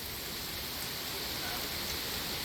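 Rain falls steadily during an outdoor fishing trip, forming a dense, unbroken wash of noise at low volume that stays constant throughout, with no distinct drops standing out.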